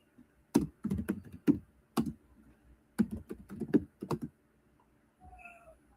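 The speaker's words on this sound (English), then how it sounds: "I have the typing skills of a blind man." Someone types on a computer keyboard nearby in uneven bursts of clacking keystrokes with short pauses, and a faint electronic tone sounds at the end after the typing stops.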